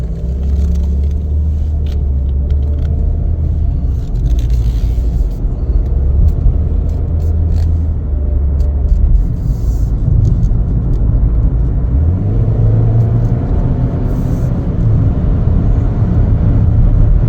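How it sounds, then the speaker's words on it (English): Steady cabin rumble of a 2023 Chevrolet Equinox LT AWD on a test drive, a continuous low engine and road drone that rises slightly as it pulls away, heard from inside with no talking. "We're going to go ahead and take it for a test drive"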